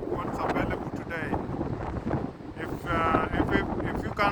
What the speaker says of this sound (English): it's because it's so windy